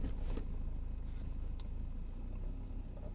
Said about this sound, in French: c'est la première fois que je démarre le véhicule. Donc, je passe ma marche arrière